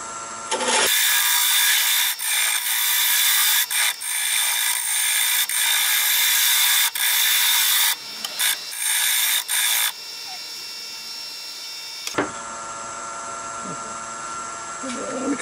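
A skew chisel cuts a spinning wood workpiece on a lathe, shaping a lighthouse, making a loud, steady hissing scrape broken by brief gaps and sharp catches, then a quieter machine hum.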